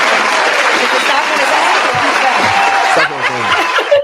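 A crowd claps steadily through the whole stretch at an anniversary celebration for a small business, with chuckles and voices mixed in; near the end the applause thins as a voice rises.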